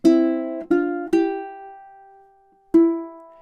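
A ukulele plays measure 17 of a song in time, four clear plucked notes ringing out with the third sustained long before the last, close and alone.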